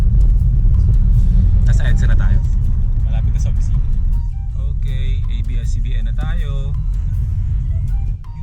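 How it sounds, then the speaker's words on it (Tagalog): Road traffic with cars passing and engines rumbling, a constant low drone with brief horn-like tones above it, heard under continuous talking. "Traffic pa rin."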